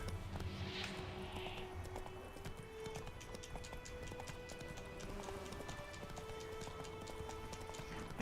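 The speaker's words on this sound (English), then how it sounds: "we can mount my horse here" Horse hooves clip-clop at a steady gallop in The Witcher 3, a continuous rhythmic pounding under a dense game soundscape with a faint whinny near the start, no one speaking.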